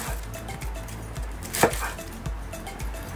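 An onion halved with a knife on a cutting board in a kitchen, with soft repeated taps and one sharper cut near the middle, close but fairly quiet, no talking.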